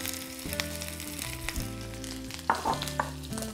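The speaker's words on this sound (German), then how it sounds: "Die kommen jetzt einfach in eine Teflonpfanne rein, die ist schon leicht vorgeheizt. Dann kommt da einfach noch ein bisschen Butter dazu." Halved white onions fry in butter with a little olive oil in a preheated Teflon pan, giving a steady close sizzle with tonal music-like hum underneath and a few sharper spits and crackles toward the end.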